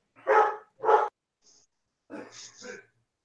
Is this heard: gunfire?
no